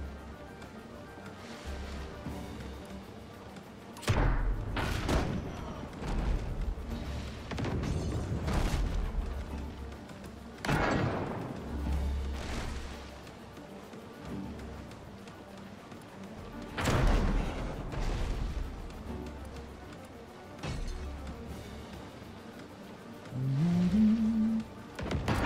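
Cannon fire in the naval video game Abandon Ship comes as repeated heavy booms spaced several seconds apart over a steady rumbling game background.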